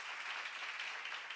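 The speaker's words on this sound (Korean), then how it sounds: "박수 한번 치세요" A church congregation applauds, the clapping blending into a continuous, soft wash of sound heard from a distance.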